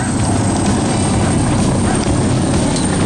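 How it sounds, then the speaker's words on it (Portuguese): Loud, steady drone of a small aircraft's engine and propeller inside the cabin as it climbs before a tandem skydive, a constant roar with no break. "Hortência, agora a gente vai lá pra cima, vamos se jogar desse avião"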